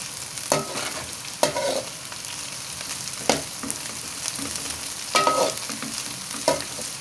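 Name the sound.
green chillies frying and being stirred in a pan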